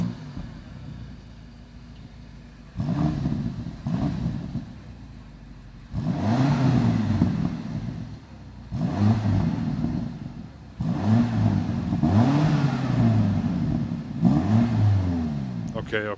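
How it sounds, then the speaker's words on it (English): A BMW X6 M Competition is heard from outside as its engine is revved in several separate bursts, each blipping up and falling back, growing longer and stronger toward the end, fairly close with quiet gaps between. "So now it's time to listen to the sound of the BMW X6 Competition from the outside."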